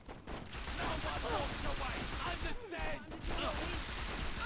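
Rapid gunfire crackles in a Saints Row 2 shootout around a golf cart, dense overlapping shots running continuously, with a voice talking over it.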